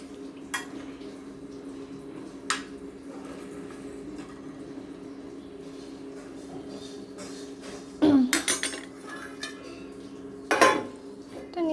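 Pots and a kadai clattering while curry is dished out at home, with a steady background hum and a few sharp metallic clanks and scrapes, two louder bursts near the end.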